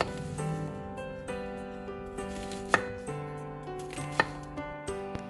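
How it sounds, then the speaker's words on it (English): A knife cuts an organic onion into halves and pieces, producing a few distinct chopping knocks on a board at irregular intervals beneath a faint tonal background. "Cut one organic onion into halves and then third split the onions."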